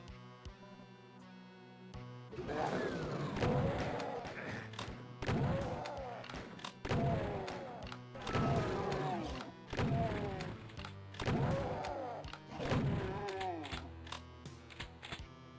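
A double-barrelled shotgun fires repeatedly in the video game Doom 2, heavy booming blasts roughly every one to two seconds over a low steady game hum.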